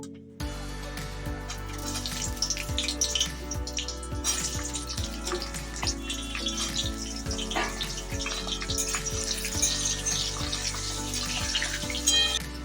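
Cut potatoes stirred in hot oil with cumin seeds and bay leaf, a steady close sizzle with repeated scraping strokes of a spatula throughout, no talking.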